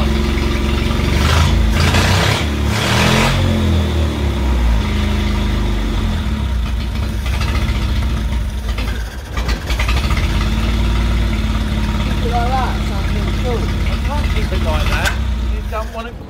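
The engine of a 1968 Bedford CA ice cream van runs rough and loud up close, sputtering and surging with uneven knocks while people talk nearby.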